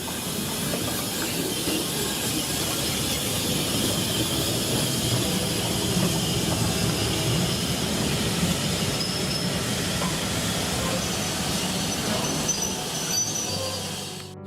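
Model railway trains running on a DCC-controlled layout, a steady rolling rumble with hiss, faint wheel squeal and clicking of wheels over track joints, continuous and fairly close throughout.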